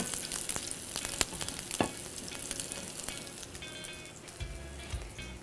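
Quinoa burgers frying in clarified butter in a pan, a close, steady sizzle with crackling pops and a few scraping stirs, no talking over it.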